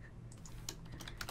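Quiet keystrokes tapped on a computer keyboard, a quick uneven run of light clicks heard close and alone over a faint background hum.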